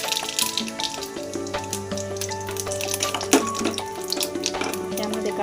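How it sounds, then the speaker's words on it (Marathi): Mustard seeds and cumin dropped into hot oil for dal tadka, producing a steady, close hiss of sizzling with scattered pops and crackles over sustained background music. "तेलामध्ये आपण मोहरी जिरे टाकून घेऊ"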